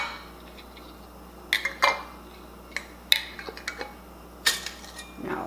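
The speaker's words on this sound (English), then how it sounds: "Okay, put on our lids." Metal canning lids clink and tick onto glass jars holding sweet and sour chicken, a string of sharp light taps in short clusters, close by with no talk.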